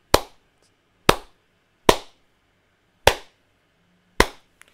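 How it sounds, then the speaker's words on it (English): Five single hand claps into a microphone during a Pure Data lesson on audio input, each one sharp and loud, spaced roughly a second apart with near silence between them. "So when I clap my hand,"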